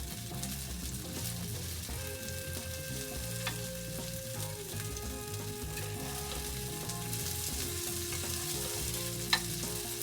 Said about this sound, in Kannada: ಎಣ್ಣೆಗೆ ಹಾಕೊಂಡು ಫ್ರೈ ಮಾಡಿ